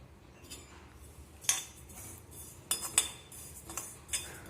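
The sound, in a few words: ajwain seeds added and roasted in hot kadhai on low flame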